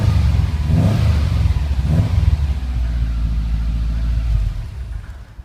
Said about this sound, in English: So that's just an idle, with a bit of a rev.